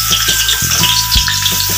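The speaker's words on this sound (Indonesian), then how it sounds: "so kita masukkan bawang putih" Garlic sizzles steadily in hot oil in a pan, a close, continuous frying hiss with a few soft knocks of stirring.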